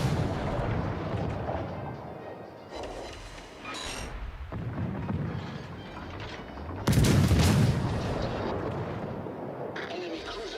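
Naval video game warship firing its A and B gun turrets, heavy booming salvos with a big blast near the middle over steady engine and water noise, while someone talks throughout.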